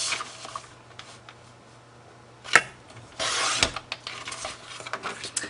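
Scrapbook pages being cut to size, with soft rubbing and rasping strokes, a sharp brief snap near the middle, and a louder, longer scraping pass afterward, all close by with no talking.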